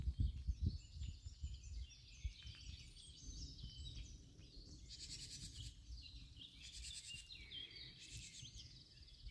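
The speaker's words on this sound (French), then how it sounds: "Avec un peu de chance, vous entendrez les oiseaux." Wild birds sing and chirp in a quiet forest, several high twittering calls repeating through the clip over a faint low rustle, with a few thumping noises near the start.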